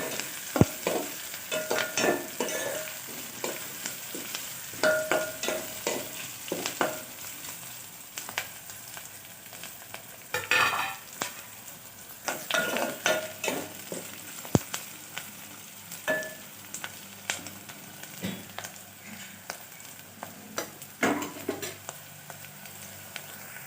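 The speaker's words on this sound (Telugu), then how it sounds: "ఆనియన్స్ గోల్డెన్ కలర్లో వచ్చినాక ఫ్రై చేసుకోండి." Onions fry in oil for a mutton curry, a continuous close sizzle with repeated scraping and clattering stirring strokes of a spoon against the pan, rising and falling in irregular bursts throughout.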